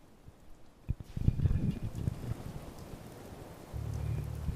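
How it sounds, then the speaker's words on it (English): Steady rain patters in the video game Fallout 4, with a low rumble like distant thunder building underneath, soft and continuous with no talk. "Hope this rain lets up soon."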